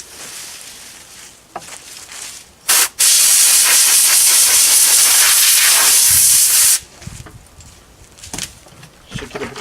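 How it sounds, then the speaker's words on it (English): An air blower blasts a strong, steady hiss across a wooden dresser during cleaning, one loud continuous burst of about four seconds between quieter stretches of handling noise. "Use my blower."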